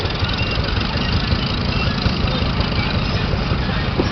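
A Fordson Major tractor engine idling outdoors, a steady, loud low rumble with a dense, even chug that holds constant throughout.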